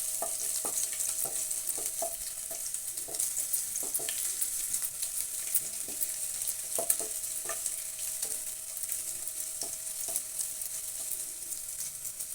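Ingredients for honey chilli potato fry in a pan with regular stirring clicks of a spatula over a soft continuous sizzle, fairly quiet, without speech.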